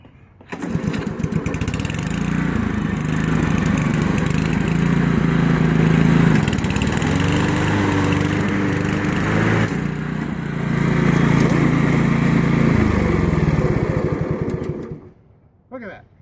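A Honda HRM215 self-propelled lawnmower, once seized and just given a carburetor rebuild, runs steadily up close, its engine drone loud and even for the whole stretch before cutting off near the end, with a person talking over it.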